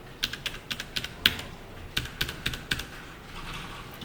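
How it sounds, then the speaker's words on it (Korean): Computer keyboard keys pressed while Shift is held and the arrow keys are tapped: a close run of light, crisp clicks in quick succession, a short pause, then another burst of taps that trails off. "Shift 누른 상태로 방향키로 왔다 갔다 해보세요"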